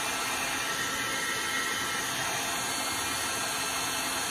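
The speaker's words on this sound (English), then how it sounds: "I'm just finishing up the embossing process here" A heat tool blows hot air over embossing powder on a stenciled greeting card, a steady, loud, unbroken fan whir with a high whine, running alone without talk.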